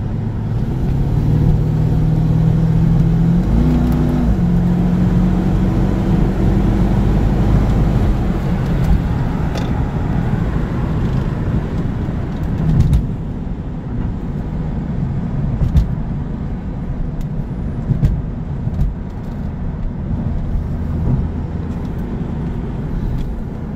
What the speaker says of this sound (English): it's a great running car